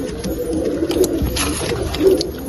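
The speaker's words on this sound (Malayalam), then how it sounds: "ഇത് നമ്മൾ എഗ്ഗ് മാറ്റി വയ്ക്കാൻ വേണ്ടി യൂസ് ചെയ്യണ ഒരു പ്രാവാണ്" A pigeon in a loft coos close by, soft throaty calls repeating over a low background hum.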